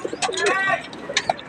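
Pigeons coo in soft, throaty rolls close by in a pigeon loft, with a few brief chirps and rustles mixed in.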